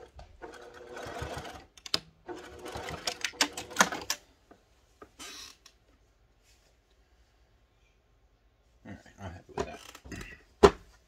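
A sewing machine stitching a postpartum padsicle runs in fast rhythmic bursts that stall and restart several times, close and clear, with a long quiet pause in between.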